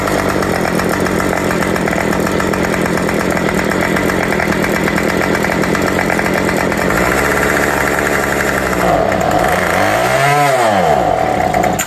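A Remington RM2510 two-stroke string trimmer engine runs after a carburetor rebuild, a loud steady buzzing whine held near high revs, then dipping and surging up and down in pitch near the end before cutting off.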